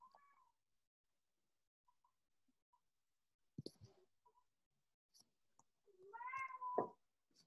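A cat meows softly a couple of times in a quiet room, with a short mew at the start and a longer meow near the end.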